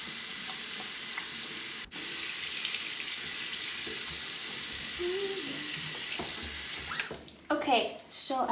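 Tap water runs steadily into a sink while a doll's hair is washed, a constant close hiss that breaks off with splashy, uneven sloshing toward the end.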